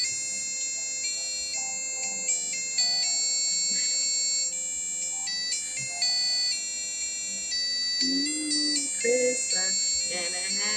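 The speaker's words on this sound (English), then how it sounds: "It's an alarm clock." A Christmas alarm clock that holds a phone plays a ringtone: bright, sustained electronic chime tones shift step by step, a near and steady melody, with a few soft background noises near the end.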